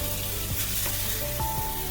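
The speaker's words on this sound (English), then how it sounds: "I love the sound of sizzling too." Sliced food sizzles and crackles steadily in a pan over a medium flame, a dense continuous fry with faint stirring, close and alone with no talk.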